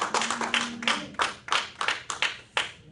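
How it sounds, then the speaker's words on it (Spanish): Clapping from a church congregation in worship: a scattered, uneven run of distinct hand claps that is moderately near and fairly quiet, with a brief low hum at the start. "Vamos a darle un fuerte aplauso al Señor."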